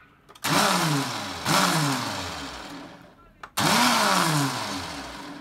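A single-serve blender pulses three times, each a loud whirring burst that starts sharply, drops in pitch and winds down, with short pauses between.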